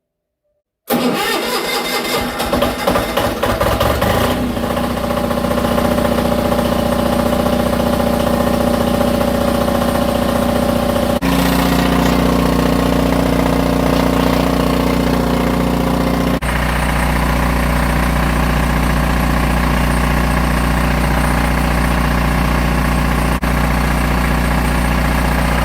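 An Onan DJB 6.0 kW diesel generator set, just repaired, cranks and starts, then runs steadily under load test with a loud, continuous engine drone whose pitch shifts slightly a few times.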